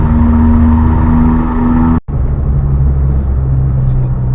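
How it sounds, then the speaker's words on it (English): Suzuki Alto Works three-cylinder engine running loudly up close, a steady droning hum that cuts out briefly partway through, then resumes at a slightly different pitch. "definitely sounds like a larger displacement engine"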